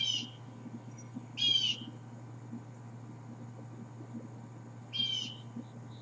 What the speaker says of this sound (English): I'm not sure on the type of bird, but it's making itself known.